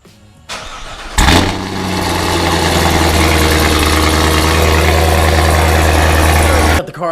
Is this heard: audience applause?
no